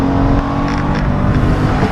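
A 2014 Toyota Sienna minivan accelerates hard from a standstill, its engine droning loudly and steadily from inside the cabin, with low rumble and a rising whine and no talking.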